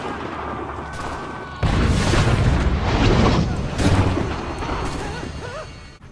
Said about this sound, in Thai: แผนของคอนเนอร์ก็คือการจัดการกับปืนใหญ่ที่ระดมยิงมาจากเรือของอังกฤษที่อยู่รอบคาบสมุทรบอสตัน